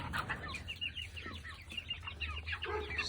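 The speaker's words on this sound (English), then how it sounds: "this chicken is not the friendliest little chicken" A chicken that is not very friendly clucks repeatedly and fairly close while being checked in its coop nest box, short busy calls over a steady low hum.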